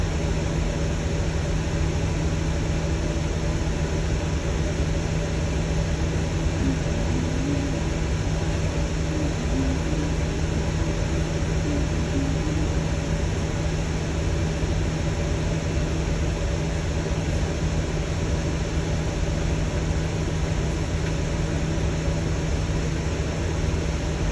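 Air brake system on a Durham Pomona transit bus builds pressure during a pre-trip check, a steady loud compressor hum and hiss with a constant low drone throughout, with no distinct air dryer spit release standing out.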